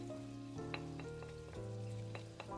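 Turmeric and whole chilies fry in oil, giving a quiet, steady sizzle with soft crackles and pops and a faint hum in the background.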